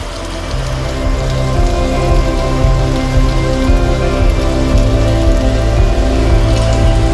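Loud, continuous rain drumming on a surface close by, with a low rumbling undertone that stays steady throughout; no one speaks.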